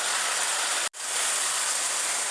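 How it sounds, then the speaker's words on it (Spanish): Ground meat frying in a pan, cooking for stuffed peppers with meat and vegetables, gives a steady close sizzle and hiss with one brief gap. "darle aproximadamente unos 10 minutos para que fría muy bien esta carne"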